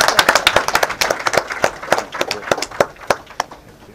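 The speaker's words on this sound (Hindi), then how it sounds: "अरे भाई, तालियां जोरदार बजना चाहिए" Audience clapping at a memorandum of understanding signing ceremony in New Delhi, a dense run of sharp hand claps continuing steadily for several seconds with no talk.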